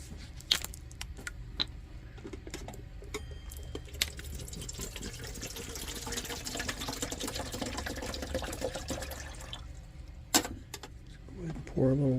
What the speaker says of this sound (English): Go ahead and pour a little water in here.